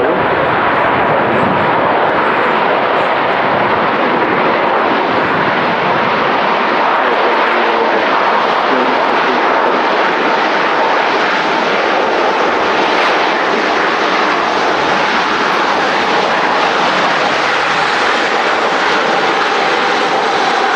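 An airliner touching down at Manchester Airport roars continuously and loudly throughout, a broad steady engine and air rush with a slowly shifting tone, no pauses and no talk over it.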